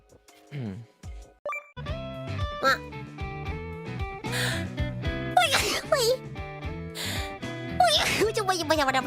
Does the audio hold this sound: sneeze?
yes